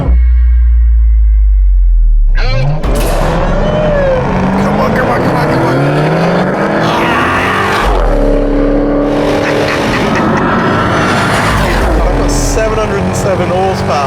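A 707-horsepower supercharged V8 Dodge Hellcat and a Camaro accelerate hard on a long straight road, engines roaring loudly and climbing through gear changes, with people talking over the noise.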